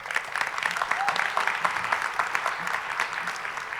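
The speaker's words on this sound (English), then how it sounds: "So how about a round of applause for all of our special guests today?" Audience at a nursing pinning ceremony applauding special guests, a continuous dense crackle of many hands clapping at moderate distance, steady throughout with faint voices underneath.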